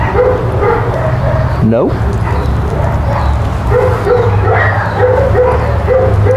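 Small dog named Biscuit barking, yipping and whimpering during ranch obedience training, close and persistent, with someone speaking firm short commands over it.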